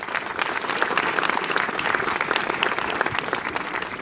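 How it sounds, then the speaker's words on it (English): A rally crowd applauds outdoors, a dense, sustained wash of clapping with scattered cheers that holds steady throughout. "Clap for them."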